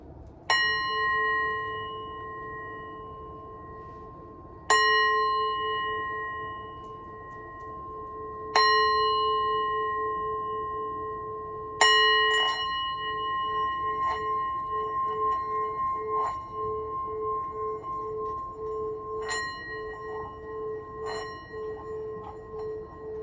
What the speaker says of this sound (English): This is my 3rd chakra sound bowl that I always use.